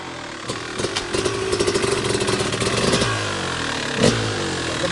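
A 2000 Kawasaki KX250 two-stroke motocross bike runs outdoors on a sidewalk, its crackling engine rising and falling in blips as it rides past, ending with a sharp rev.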